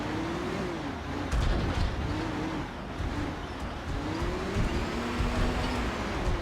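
A laboring truck engine in Construction Simulator 2022 strains uphill, its droning note rising and dipping in pitch over a steady rumble, close and continuous with no voices.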